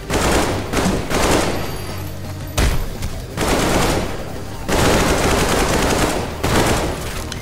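Rapid automatic gunfire in a video game, friendly fire on teammates, loud bursts of machine-gun shots in several long volleys separated by brief pauses, with faint voices in the background.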